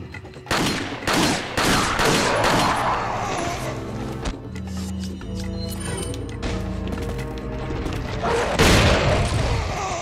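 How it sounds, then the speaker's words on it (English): Shotgun blasts in the Resident Evil 4 video game, a rapid series of loud, close booming shots in bursts, mixed with clanking action and game music, with a final heavy blast near the end. "Shotgun blast the both of you away."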